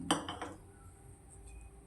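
A metal pot clanks down onto a stove with a few quick clattering knocks, then faint background hum.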